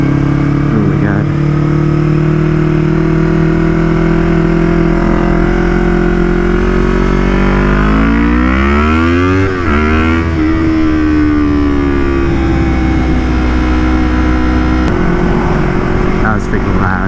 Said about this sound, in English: This exhaust is so loud and beastly.